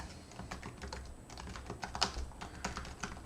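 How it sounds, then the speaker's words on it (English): Close, steady typing on a computer keyboard as a command is entered, a rapid irregular run of soft key clicks with no talk. "I'm going to have to type it out instead of just"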